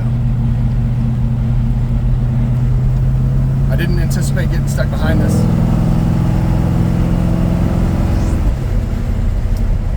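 A 1972 Chevrolet C10 Big Window pickup, restored with an upgraded engine, drives slowly in traffic, its low steady engine drone loud and close beneath someone talking, with a brief shift in pitch midway.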